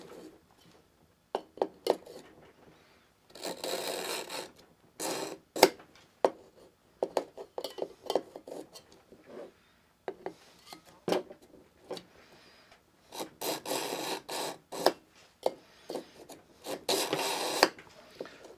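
A kitchen knife drawn repeatedly through a Wusthof knife sharpener sold by Costco, giving a series of short, scraping metallic strokes in uneven bursts, some close together and some separated by brief pauses.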